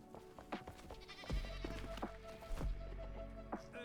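Goats in the game Enshrouded bleat several times at a farm, short wavering calls spaced irregularly over a quiet background, moderately close and fairly soft.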